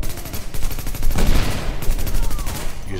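Rapid assault rifle gunfire in a first-person shooter game, a dense run of repeated shots that swells in the middle and continues steadily to the end, loud and close with no talking.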